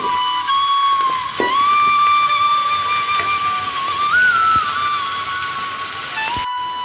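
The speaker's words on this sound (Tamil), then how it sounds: "இது எல்லாத்தையும் வதக்கி விட்டுக்கலாம்." Fennel, onion and curry leaves sautéing in a pan while crab curry is being made, a steady, loud sizzle under a thin whistling tone, with a brief clatter near the end.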